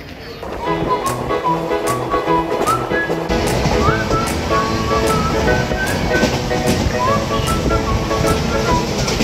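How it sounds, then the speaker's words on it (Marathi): Diva–Sawantwadi passenger train arriving at Veer station on the Konkan Railway, a steady loud rumble of wheels and carriages with rhythmic clicks and brief squeals throughout, a murmur of voices mixed in. "आता ट्रेन पोचली वीर स्टेशनला, आणि exact time to time train चालली आहे"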